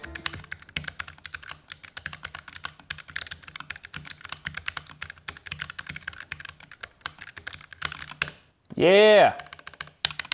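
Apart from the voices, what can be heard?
typing on a computer keyboard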